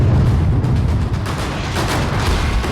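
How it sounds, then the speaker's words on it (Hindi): A controlled blast destroys a militant's house in Pulwama district, Jammu and Kashmir, heard as a loud, sustained rumbling roar of debris and echo with no pause. "देखिए 5, 4, 3, 2, 1 और जोरदार ब्लास्ट।"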